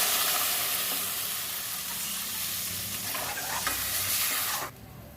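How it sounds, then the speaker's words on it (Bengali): Water is poured into masala fried for an jackfruit and prawn curry, setting off a loud, broad hiss and sizzle that rushes for about four and a half seconds and then cuts off abruptly into quieter bubbling. "মশলাটা আমার কষা হয়ে গেছে এবার আমি জল দিয়ে নেব জল দিয়ে দিচ্ছি পরিমাণ মতো"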